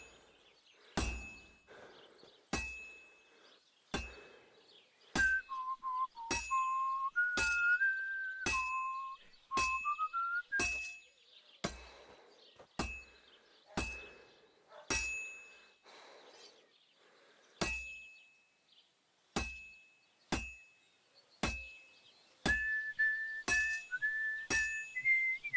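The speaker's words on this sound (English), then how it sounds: "Is that Henry whistling?" Henry whistles a short melody in Kingdom Come: Deliverance 2, in intermittent bursts over a steady series of bright, ringing metallic clangs about a second apart.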